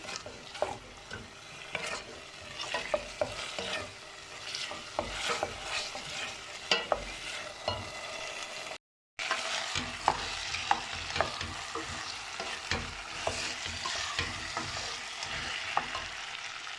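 Tomato paste sautéing in a pan, a steady close sizzle with frequent scraping and tapping of a spoon stirring, continuing throughout apart from one brief dropout.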